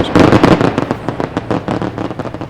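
Labor Day fireworks show with rapid, loud overlapping bursts and crackling booms, a dense barrage of concussive pops and bangs in quick succession.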